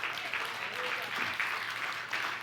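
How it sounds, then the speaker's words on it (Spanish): Congregation applauding during a church worship service, a dense, steady wash of clapping throughout with voices blended underneath. "Dale un aplauso al Señor."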